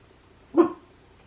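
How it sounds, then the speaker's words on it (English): An indoor dog lets out one short, fairly close bark, heard alone against a quiet background. "Did you hear my dog bark?"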